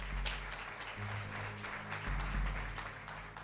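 Applause breaks out among people in a courtroom: a soft, fairly distant patter of clapping over a low steady hum, continuing evenly for a few seconds.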